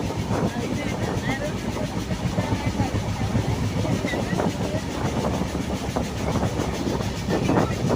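The Ernakulam–Madgaon SF Express runs at 72 km/h toward Thrissur, heard from inside as a loud, continuous rumble with rhythmic wheel clatter over the rails, steady throughout.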